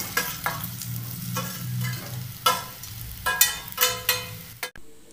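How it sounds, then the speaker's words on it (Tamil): Fried potatoes tossed with masala in a pan sizzle steadily while being stirred, with repeated scraping and clattering strokes that grow sharper toward the end. "மசாலா எல்லாம் உருளை கிழங்கோட mix ஆகற அளவுக்கு வதக்கி விட்டீங்கனா போதும்"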